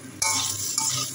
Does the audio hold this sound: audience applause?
no